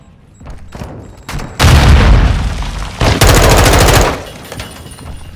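A grenade explodes in Call of Duty: Modern Warfare amid a loud firefight, with several heavy booms and a rapid burst of automatic gunfire close by before the noise drops away.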